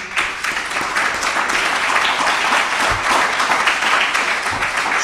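A church congregation breaks into sustained applause for God during a Spanish-language sermon, a dense, steady wash of many hands clapping at close range that fills the whole stretch without pause.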